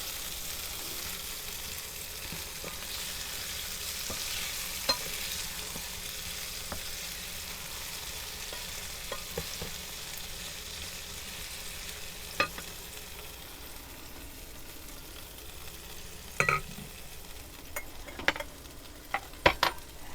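Pasta warming in a frying pan on a camp stove at a campground, a quiet continuous sizzle with scattered clicks and scrapes of a utensil stirring, louder clatters toward the end, no talk.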